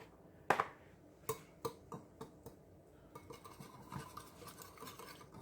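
Eggs whisked with Tony's seasoning in a bowl, a quiet series of quick clinking taps from a whisk or fork against the dish, irregular and close, with no talk.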